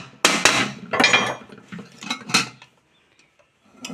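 A hammer pounds the metal body of a three-litre Hawkins pressure cooker back into shape: a quick series of about six sharp, ringing blows, then a brief pause before another strike.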